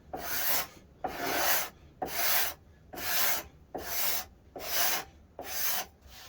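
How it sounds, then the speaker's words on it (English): A hand scraper rasps along a mahogany neck-through guitar neck in eight even, rhythmic strokes, each a loud close scrape separated by brief pauses. "I don't usually use the scrapers."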